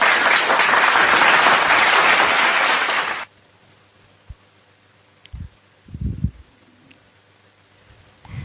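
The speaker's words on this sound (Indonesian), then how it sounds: "Tepuk tangan dulu deh." An audience claps for about three seconds, a dense loud burst of applause that stops abruptly, followed by near silence with a few scattered faint knocks and rustles.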